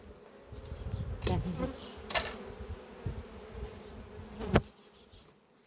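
Honey bees buzzing after pesticide poisoning, a close, low droning hum with scattered sharp clicks and bumps, moderately quiet.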